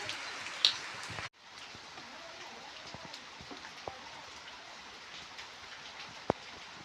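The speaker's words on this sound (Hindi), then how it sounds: "तो बारिश का मौसम खतरनाक वाला हो गया है" Steady rain falling in a hill village home during the monsoon, a soft continuous patter with occasional louder drips, after a brief louder moment at the start.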